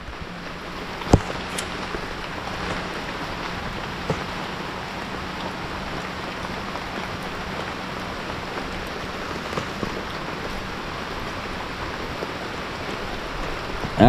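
Steady heavy typhoon rain hisses evenly on surfaces, a constant wash of noise with a few isolated taps and drips, fairly quiet and uninterrupted.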